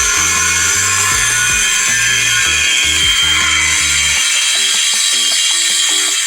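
A power tool enlarging a mounting bolt hole into an oval grinds loudly and continuously, with rhythmic mechanical pulses over a steady high whine, stopping partway while the harsh drone carries on.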